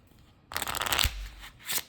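Close riffle of a Mindful Lenormand card deck being shuffled, a dense flurry of papery card flicks and slaps lasting about a second and a half, with a brief quieter gap before a final burst.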